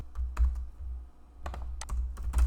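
Fingers type on a computer keyboard in short bursts of clicky keystrokes, close and moderately loud, with a brief pause between groups of presses and a low hum underneath.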